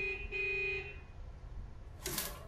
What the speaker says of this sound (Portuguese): Tá buzinando por quê, seu merda do cacete?